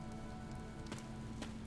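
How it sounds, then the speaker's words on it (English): Steady rain in the video game Fire Emblem: Three Houses, a faint, even patter with a few droplet ticks over a low hum and no talking. "This rain threatens a coming storm."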